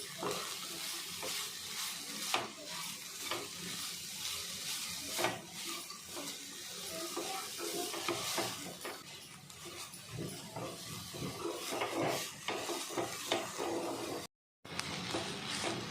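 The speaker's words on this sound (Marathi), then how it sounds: "ह्याला तुपामध्ये चांगलं परतवून घेऊया आपण" Indian gooseberries (amla) sautéing in ghee over low to medium flame, a close continuous sizzle with frequent spatula scrapes and stirs against the pan, briefly cutting out near the end.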